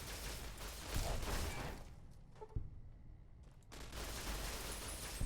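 Gunfire rattles through a firefight in the video game Fallout: New Vegas, with dense bursts of shots, a brief lull broken by a single sharp crack, then renewed volleys, all fairly quiet and with no talking.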